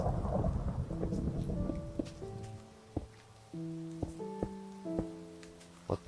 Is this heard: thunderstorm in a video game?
yes